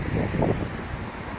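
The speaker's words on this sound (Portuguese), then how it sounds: "Desculpa o vento aqui na rua" Wind buffets the microphone on a city street in Düsseldorf, a steady low rumbling gust that swells briefly and then settles, with no voices heard.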